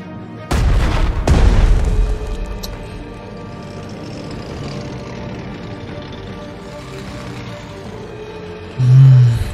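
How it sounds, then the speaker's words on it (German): Artillery fire in Strategic Mind: Blitzkrieg: two loud, close booming shots in quick succession near the start, followed by a rumbling decay, then a muffled low thud at the end. "Artillerie."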